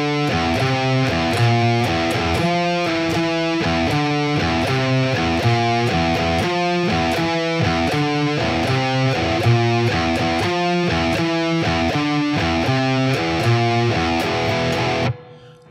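Heavily distorted electric guitar plays a fast metal riff alternating the open low string with fretted notes higher up, a steady driving rhythm for about fifteen seconds before cutting off, loud and alone.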